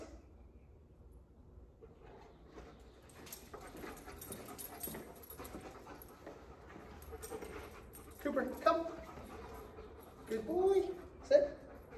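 An 8-month-old Alaskan Malamute puppy pants and lets out short whimpers close by, with a few louder bursts toward the end, over low background noise and faint activity.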